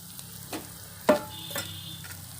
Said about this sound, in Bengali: সিদ্ধ করা আলুটা এখন আমি দিয়ে দিব।